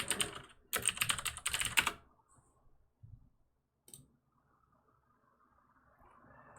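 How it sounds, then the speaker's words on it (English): Rapid typing on a Das mechanical keyboard with clicky switches, a dense close burst of clattering keystrokes for two seconds, then a few isolated taps and faint room noise. "I like the clicky clacky switches"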